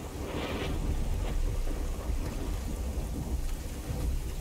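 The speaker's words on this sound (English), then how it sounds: "Thunder's intense." Heavy rain with rolling thunder in a video game's stormy town, a steady loud downpour with low rumbling swells throughout and no talk over it.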